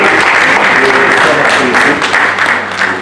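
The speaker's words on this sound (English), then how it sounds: "Round of applause for Honorable Babu" Loud, sustained applause from a conference audience at the Africa Regional Volunteering Conference, many hands clapping together close by and tapering off slightly toward the end.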